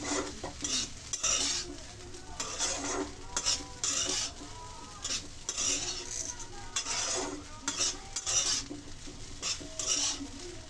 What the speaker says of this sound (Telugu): ఇప్పుడు దీన్ని లైట్గా కలిపేసుకోండి.